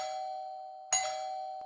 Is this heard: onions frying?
no